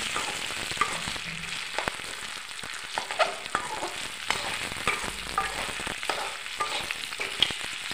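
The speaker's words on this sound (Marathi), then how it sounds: "परतून घ्या." Sabudana khichdi with potatoes sizzles and fries in a pan, with scattered scraping and stirring clicks from a utensil over a steady, moderately quiet crackle.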